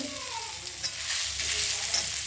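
Ground turmeric, chilli and cumin fry in a pan in a home kitchen, giving a steady, close sizzle with light stirring and no talking.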